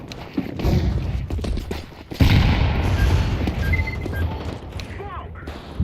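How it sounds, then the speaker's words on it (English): A flashbang grenade goes off with a sudden heavy boom partway through a Counter-Strike Online 2 match, set against a continuous clatter of gunfire and game noise, with voices faintly mixed in. "I'm throwing a flashbang."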